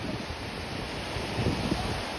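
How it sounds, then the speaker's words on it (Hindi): Ocean surf at Gangasagar, where the river meets the sea, rolls as a steady broadband wash with wind noise buffeting the microphone and a slight swell of waves toward the end. "आवाज़ सुन रहे हो लहर की?"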